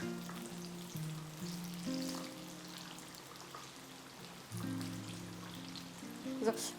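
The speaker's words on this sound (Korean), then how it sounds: "그래서 가지만 먼저 튀겨 볼게요." Eggplant deep-frying in hot oil, a soft continuous sizzle and crackle running steadily beneath a voice talking throughout.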